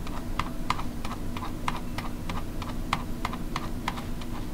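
Steady typing on a computer keyboard during a Linux distribution demo, with clear individual key clicks in a fast irregular rhythm over a constant low hum, close and moderately loud, with no voices.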